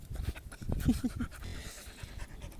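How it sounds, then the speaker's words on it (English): Hungry, dirty dog panting in quick, soft rhythmic breaths close by, fairly faint, with a little background noise. "that's one hungry dog"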